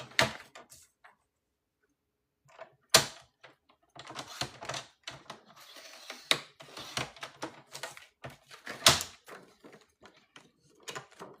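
A blade slicing through clear acetate sheet for journal making, heard as a string of sharp, close clicks and scratchy scrapes in uneven bursts with short pauses between strokes.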